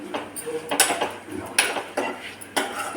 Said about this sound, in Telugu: దీన్ని ఇప్పుడు తీసుకొని ఇందులో మనం చేసి పెట్టుకున్న పోపులో వేసేయాలి. మొత్తం వేసి బాగా కలుపుకోవాలి.